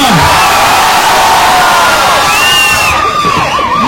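A dense, loud crowd cheers continuously with shrill whoops and shouts at the grand launch of Lucky Shopping Mall featuring actress Sreeleela.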